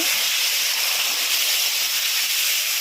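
Spices sizzle in hot oil in a pan while being fried down for dhokar dalna, a loud, steady, close hiss with no voices.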